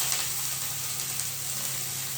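Broccoli fries in hot oil in a pan, giving a close, steady sizzle with a bright crackling hiss that goes on without a break.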